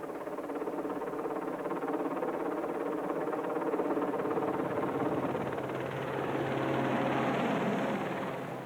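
A military training helicopter's steady rotor thrum and engine whine drone continuously at close range, loud and unbroken throughout.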